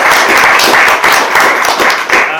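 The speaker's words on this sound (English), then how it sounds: "I think that's a round of applause for all." Loud, close round of applause from an audience at a climate tour event at Springhill House, National Trust, dense clapping with pulsing rhythm sustained through the whole stretch.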